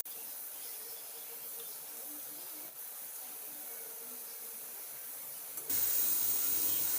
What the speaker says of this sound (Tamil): இப்போ ஒன்று ஒன்று நம்ம போட்டு பொரித்து எடுத்துக்கலாம்.